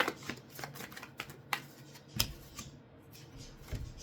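Tarot cards being shuffled by hand, a run of soft papery riffles and slaps in uneven bursts, close and fairly quiet with no talking.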